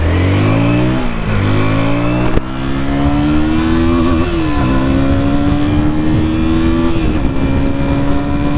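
A KTM Duke 160 motorcycle accelerates hard on a ride, its engine note climbing steadily through the gears with brief dips at each shift, loud and close, with no talking.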